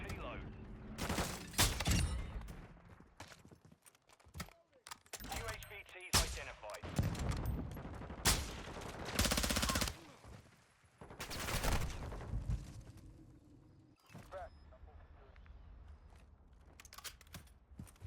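Gunfire in Call of Duty Modern Warfare II on the El Asilo map: repeated bursts of automatic rifle fire and sharp shots, loud and close, mixed with explosions and radio chatter.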